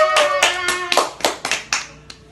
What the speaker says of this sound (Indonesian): Tepuk tangan buat kita semua dong, biar semangat.